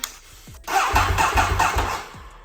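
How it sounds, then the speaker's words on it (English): A 2010 Ducati 848 motorcycle engine cranks briefly with a starter whir, catches and fires into a loud, close, lumpy idle for about a second and a half, then quiets. "the bike cranks"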